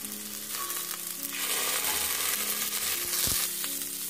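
Onion, capsicum, soya chunks and chopped tomato fry in oil with a loud, continuous sizzle that swells as ingredients go in, broken by a few stirring knocks against the pan.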